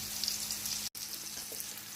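Small-cut peppers fry in a pan with a steady, close, bright sizzle and crackle that cuts out for a split second before carrying on alone.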